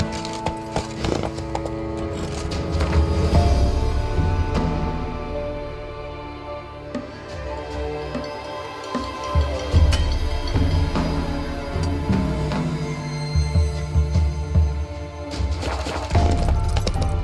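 The horse Roach gallops in The Witcher 3, with rapid rhythmic hoofbeats close by, a whinny, and scattered crashing and breaking sounds throughout.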